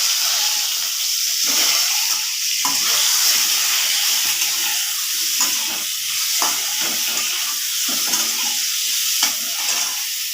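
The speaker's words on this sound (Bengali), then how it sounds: "তেলটা গরম হয়ে গেছে আমি ডিমগুলি দিয়ে দিচ্ছি" Scored, salted eggs fry in hot oil with a steady, close sizzle and occasional spatter and stirring clicks, continuing without a break.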